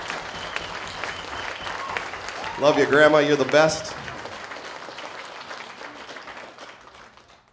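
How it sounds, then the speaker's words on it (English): Concert crowd at a tribute show applauds an elderly audience member in the front row, with steady clapping throughout and a voice calling out affectionately over it midway. "If you guys give her a round of applause."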